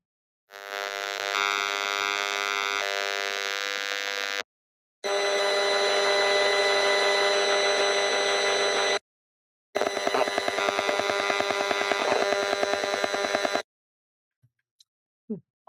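An EMF meter turns wireless data pulses in a home into sound: loud, steady electronic buzzing tones in three long bursts separated by brief gaps, the last burst rapidly pulsing, then near silence with a few faint clicks.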